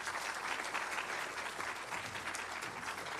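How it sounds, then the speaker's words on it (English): Steady, dense audience applause at a data and privacy summit in 2022, heard from a distance and quietly, filling the whole stretch without talk. "Give them another round of applause."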